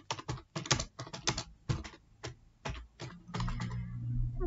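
Keys on a computer keyboard clatter in quick, uneven bursts of close taps with short pauses between them, followed by a faint low hum at the end, and no voices.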